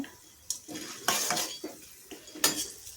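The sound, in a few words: roasting peanuts and chana dal in a pan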